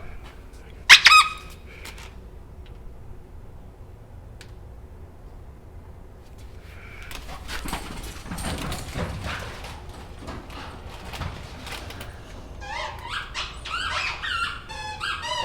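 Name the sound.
dog squeaking Kong Wubba hippo squeaky toy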